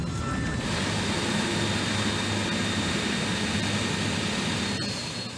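Jet engines on a 60-metre-long aircraft roar steadily at the end of a high-power ground engine test at Brisbane airport, a loud, continuous wash of noise that eases slightly in the final moments.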